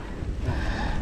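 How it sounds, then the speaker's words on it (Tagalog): Strong wind buffets the microphone in a rough, continuous roar for about a second. "Malakas na mahangin doon,"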